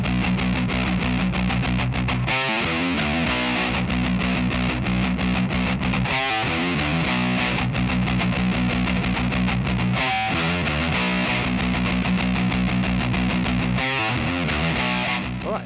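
A heavily distorted electric guitar chugs through a verse riff, loud, dense and relentless, with brief choppy breaks recurring every few seconds.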